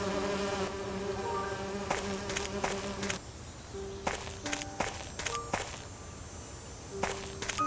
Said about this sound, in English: I need to subdue the bees first. They'll do me in for sure if I disrupt their artificial home.